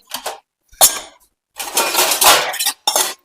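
Dishes, cups and spoons are handled at close range in a home kitchen while tea is being served, making several separate bursts of clattering and clinking with short silences between them.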